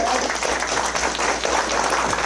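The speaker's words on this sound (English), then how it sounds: "Let's give one big clap" Event audience at a countywide transition gathering breaking into dense, loud applause that fills the room steadily from start to finish rather than a single clap.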